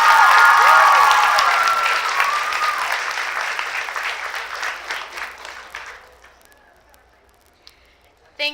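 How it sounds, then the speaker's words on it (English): Audience applause for candidates at a 2015 ALARGS speech event: loud, dense clapping from a crowd that holds steady, then thins and fades out after about six seconds, with a faint voice near the end. "So let's give them another round of applause"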